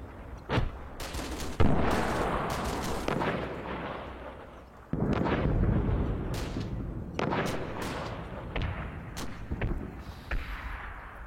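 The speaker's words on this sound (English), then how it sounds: "I think that's spotting rounds, but that's still nowhere near." Artillery spotting rounds burst repeatedly in a video game battle, a string of loud booms and sharp cracks at irregular intervals with rumbling tails, some near and some farther off, with no talk.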